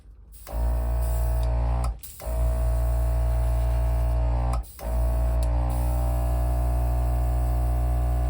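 Compressed air blasts dust off a freshly painted rally car part, a loud, continuous hiss over a low motor hum, cut by two short pauses.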